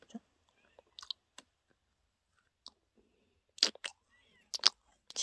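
Biting into and chewing a Subway sandwich, close and quiet, with scattered soft clicks early on and then a few short crunchy bursts of chewing near the end.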